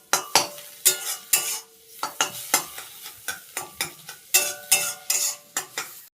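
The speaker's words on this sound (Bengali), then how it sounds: "এই ঝুড়ি ঝুড়ি করে ডিমটা ভেজে নিচ্ছি।" An egg fries and is scrambled in a pan, with a loud, rhythmic run of close spatula scrapes and knocks, each stroke bringing a burst of sizzling, and no voices.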